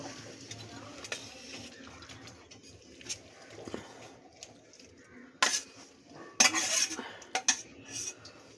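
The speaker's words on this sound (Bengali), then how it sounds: "এবার আমি প্রথমে কাচকি মাছগুলো কড়াইতে নিয়ে নেব" Small kachki fish tipped into a wok for a karai chorchori, with light clinks of utensils followed by a couple of short, sharp clattering bursts and a brief crackle, close by and moderately loud.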